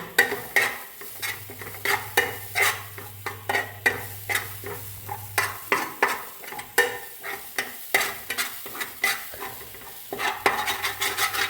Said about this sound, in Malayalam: നമ്മൾ തേങ്ങ വറക്കുകയാണ്